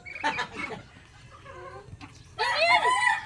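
A duck squawks and quacks in loud frantic bursts while being chased, with scuffling between the calls and a harsh rising cry near the end.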